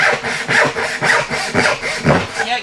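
A freshly sharpened hand saw cuts through wood in rhythmic push-pull strokes, about two per second, close and loud with a rough rasping tone.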